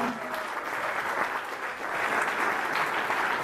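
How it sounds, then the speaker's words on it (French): Sustained audience applause for a youth folklore group at a carnival poster unveiling in Ressaix, a dense steady clapping that swells slightly toward the end, with faint voices underneath. "je vous demanderai déjà des applaudissements pour les jeunes folklore"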